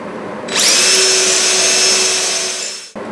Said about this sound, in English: I've got a flag stop on my drill, and I just need to drill that hole.